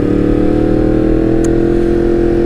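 A 2016 Yamaha MT-10 motorcycle with a loud exhaust roars at high revs, a dense, continuous, close-up engine blare held steady for the whole stretch.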